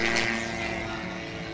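A large model aircraft with a Limbach 280 cc engine geared down 6:1, swinging a one-metre propeller, drones steadily overhead at an air meeting, a buzzing steady tone with no talk.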